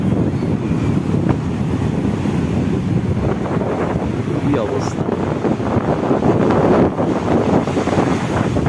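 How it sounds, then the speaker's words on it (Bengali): Rough sea waves crash on the shore with heavy wind buffeting the microphone, a continuous loud roar of surf and gusts, while a person briefly speaks over it. "বিভৎস ঢেউ আমরা এত উঁচুতে উঠে এসেছি তাও দেখুন এখানে জল চলে এসছে"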